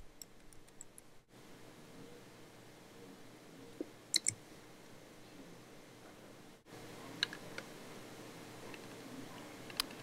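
Soft clicks and a few brief taps on a computer keyboard and mouse while entering a cartridge name in design software, faint and close, with a short burst of keystrokes near the middle.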